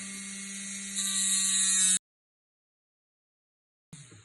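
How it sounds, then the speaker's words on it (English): A rotary tool's cutting wheel, used on its flat top, sharpens a carved wax jewellery piece with a high buzzing whir that grows louder and then stops abruptly, followed by two seconds of silence and a brief restart. "we're using the cutting wheel, but we're using the flat on the top"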